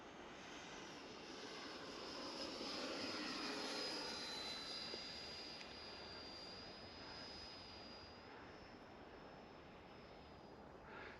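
An FMS Futura 64mm electric ducted fan model jet flies overhead, giving a steady distant whine that swells and fades slightly as it climbs and turns, with no voices.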